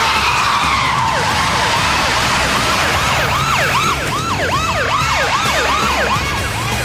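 Tyres skid and screech loudly as a car is stolen and driven off at speed, with wailing police and emergency sirens sweeping repeatedly over a constant roar of traffic and engine noise.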